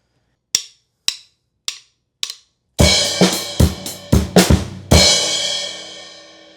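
Four stick clicks count in a close, loud drum kit playing a song's groove variation with an extra bass drum hit before the snare, ending on a ringing crash.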